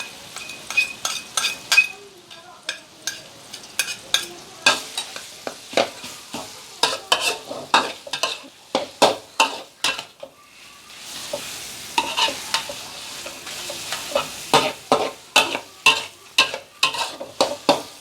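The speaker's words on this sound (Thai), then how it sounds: "เจียวกระเทียมให้หอมหอม ให้หอมก่อน" Pounded garlic fries in oil while a utensil stirs it around a pan, making a steady sizzle broken by repeated sharp scraping clacks in an uneven rhythm, close and fairly loud, with no talking.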